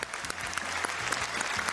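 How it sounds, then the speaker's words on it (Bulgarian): Applause from a television game-show studio audience, steady and fairly close, greeting the final contestant; a low voice murmurs briefly beneath the clapping. "Аплодисменти и за последният опонент в днешната игра"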